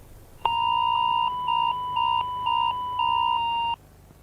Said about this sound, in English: warnings of the attack will be broadcast through a text message warning and sound